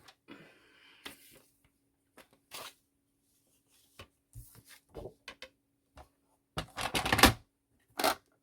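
Paper being cut during handmade paper crafting: scattered crisp snips and rustles, with a denser run of close cutting strokes near the end, quiet and without talk.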